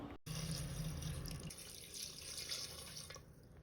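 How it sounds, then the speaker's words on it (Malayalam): Coconut milk pours steadily into a pressure cooker of duck curry up close, a soft continuous splashing and trickle that thins out toward the end. "ഇനി 2ാം പാലാണ് ഒഴിക്കുന്നത്"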